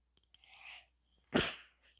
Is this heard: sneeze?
yes